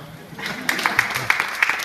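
Applause at a museum news conference for a LEGO art display builds after a short pause into scattered, moderately close clapping from a small crowd, with uneven individual claps standing out.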